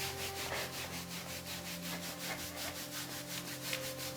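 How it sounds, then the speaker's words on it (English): Hands rubbing the knees during seated chair yoga, a soft rhythmic swishing of palms over fabric in steady back-and-forth strokes, quiet and close with a faint hum under it and no talking. "You might just want to rub your knees."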